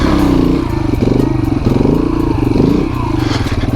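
A motorcycle engine pulses and revs up close during a one-handed wheelie, with rhythmic throttle surges and some clatter from the bike and wind.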